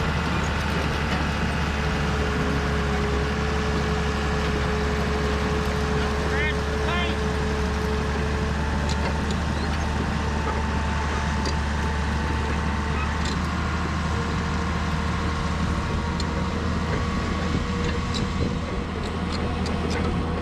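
A heavy vehicle engine drones steadily as it rolls in neutral at a dirt-work site, a constant loud low rumble with faint tonal whines, and someone talking over it.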